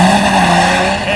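A Cummins diesel pickup truck launching hard off a drag strip starting line, a loud, close, sustained engine roar with tire noise across the short stretch.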